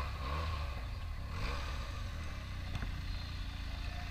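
A modified Benelli TNT 300 motorcycle engine running close by, a steady low rumble with slight revving swells throughout.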